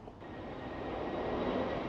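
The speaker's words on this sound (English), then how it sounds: "it sounds like we have a plane coming in" An airplane comes in to land near a temple in north Taipei, its engine a faint, distant rumbling roar that swells slowly and steadily with no voices over it.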